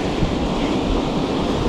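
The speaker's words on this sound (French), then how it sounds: "J'espère que vous allez bien m'entendre parce qu'il y a pas mal de vent" Strong wind blowing steadily at a river lock with a badly closed gate, a loud continuous roar buffeting the microphone with low rumbling gusts and no voices.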